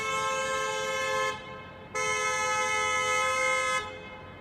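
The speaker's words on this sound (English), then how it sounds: "And what? What's up with that honking?" Car horns honking at a red light on a Miami street at night, two long, loud blasts separated by a short gap, with no talking.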